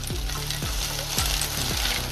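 Green chilli, garlic, ginger and fresh coriander fry in hot oil, giving a steady close sizzle broken by about five scraping sweeps of a spatula, with no talking.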